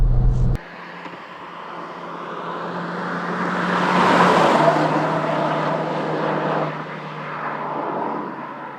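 A tuned Suzuki Swift with boost-up and an aftermarket muffler pulls hard through first, second and third gears, a loud steady engine roar building and swelling mid-run with brief dips at shifts, heard from close by.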